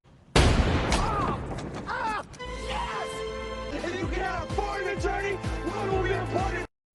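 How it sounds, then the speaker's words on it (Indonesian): A burst of gunfire and booming impacts in a busy action scene, with music and shouting voices layered over the loud, continuous din. "Kemudian Jenko melindungi Smith dari tembakan"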